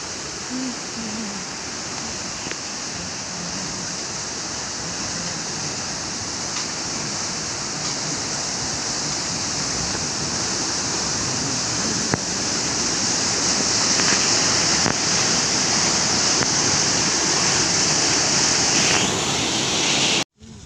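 Cold water of the Amlong river pours down from the hills of West Karbi Anglong, a steady, loud, unbroken rush with no voices over it.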